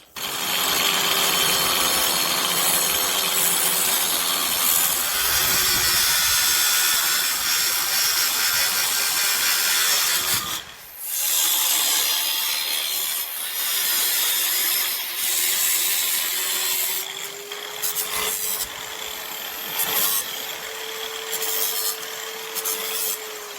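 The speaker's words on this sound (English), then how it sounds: "we're going to cut this piece off with the grinder so that the wheel can swing past" An angle grinder cuts a metal piece off a moped frame in a loud continuous whine with a steady high tone that dips briefly midway and then resumes. No one talks.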